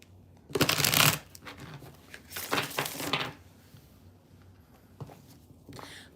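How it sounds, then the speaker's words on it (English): Tarot cards being shuffled by hand, close by, in a few quick papery riffling bursts separated by quieter handling sounds, with no talking. "Let me just shuffle."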